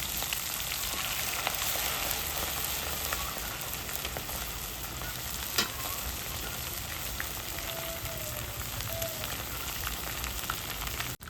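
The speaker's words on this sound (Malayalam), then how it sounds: "കാടേ വെളിച്ചെണ്ണയിലേക്ക് ഇട്ടതിന് ശേഷം അന്നേരം തന്നെ ഇളക്കി കൊടുക്കരുത്" Spice-rubbed quail fry in hot coconut oil, giving a steady, even hiss of bubbling oil that stays close and constant throughout, with no voices.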